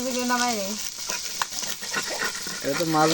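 Food fries in a pan with a continuous crackling sizzle under close conversation, as people talk over the cooking.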